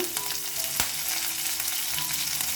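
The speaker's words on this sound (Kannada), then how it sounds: "ಇದನ್ನೊಂದು ಸ್ವಲ್ಪ ಹಸಿ ವಾಸನೆ ಹೋಗೋ ತನಕ ಹುರ್ಕೊಳ್ಳೋಣ" Garlic, slit green chilies, asafoetida and curry leaves fry in oil for a North Karnataka fenugreek-leaf dish, a loud continuous sizzle with a sharp stirring scrape partway through.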